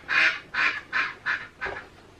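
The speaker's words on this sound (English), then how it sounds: "There's the duck." A duck quacks five times in an even, steady rhythm, each call short, nasal and fairly close, with no talking over it.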